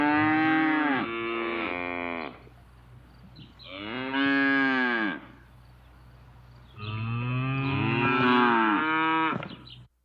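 Cattle moo three times, long, loud and close, each drawn-out bellow separated by brief quiet pauses, with no voices present.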